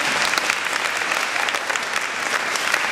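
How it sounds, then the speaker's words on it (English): An audience at a youth health event applauds the National Youth Development Council, a full, steady roar of many hands clapping close by, with individual claps popping through the dense wash and no speech. "How about a big round of applause for the National Youth Development Council?"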